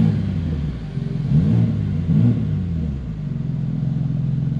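A BMW M2 G87 engine turns over and revs, with two distinct throttle blips rising above a steady, close idle rumble heard from inside the car.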